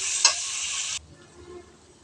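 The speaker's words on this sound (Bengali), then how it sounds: "দিয়ে আমি নাড়িয়ে নেব ভালো করে।" Cashew paste stirred in a frying pan for a Bengali prawn malai curry gives a loud, close hissing sizzle with a scrape of the spoon, then cuts off abruptly into quiet.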